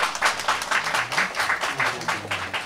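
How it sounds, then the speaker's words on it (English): A church congregation claps hands in welcome, a loose run of rhythmic claps from many people that pulses steadily, moderately loud and fairly close, with no talk over it. "let's welcome the clap in hand and welcome them"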